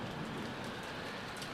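Rain falls steadily as a sound effect in the visual novel Umineko When They Cry, making a dense, continuous hiss of drops on surfaces at a moderate, even level.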